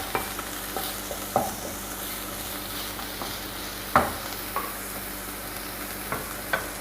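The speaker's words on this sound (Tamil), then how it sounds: "இதெல்லாம் லைட்டாக வதங்கினா போதும்." Spring roll vegetable stuffing lightly sautéing in a pan, a soft constant sizzle with occasional spatula knocks and scrapes against the pan at irregular intervals.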